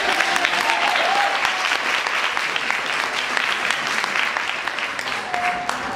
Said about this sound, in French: Aline, de nouveau des applaudissements pour Aline.